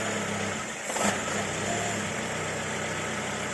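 A car engine, just back from an oil service, runs at a steady idle after starting. The drone is continuous and close, with a brief rise near the start.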